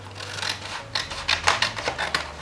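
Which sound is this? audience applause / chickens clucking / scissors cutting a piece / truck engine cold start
scissors cutting a piece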